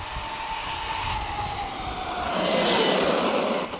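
An electric RC car motor at full throttle gives a high whining drone that builds and swells in loudness as the car runs out, continuous and with no talking.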